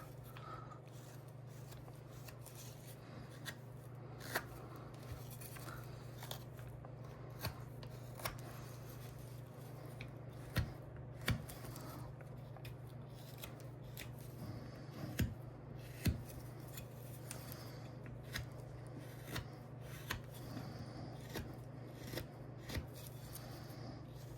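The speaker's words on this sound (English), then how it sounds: "I'm kind of putting some movement in here just with my knife." Knife carving a wood figure, rounding the hairline and removing machine marks, with faint short scraping and cutting strokes at an irregular pace over a steady low hum.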